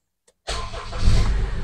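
Car engine cranked with the starter after a moment of near silence, catching suddenly and settling into a loud, steady running rumble.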